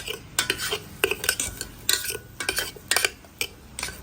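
Onions browning inside an electric kettle are stirred with a utensil, making repeated close metallic scrapes and clicks against the kettle's inner wall in an uneven rhythm over faint background hiss.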